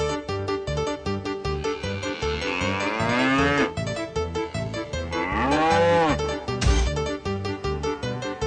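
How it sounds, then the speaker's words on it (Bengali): A cartoon bull gives long, drawn-out lowing moos, two big sweeping calls over a loud, bouncy rhythmic music track, with a thump near the end. "একটা ষাঁড় তোমার দিকেই তেড়ে আসছে, পালাও"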